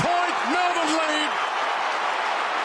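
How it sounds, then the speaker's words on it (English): Stadium crowd roaring at an Australian rules football match between Essendon and Melbourne in 2014, a dense, sustained wall of noise with a commentator's voice over it at the start. "Listen to the crowd. It's off the scale, this."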